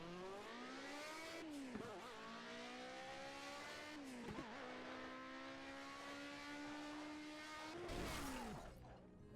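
A Ford car engine in the Project CARS racing game revs hard and steadily, its pitch climbing through the gears with abrupt drops at each shift, then a louder burst of impact noise near the end.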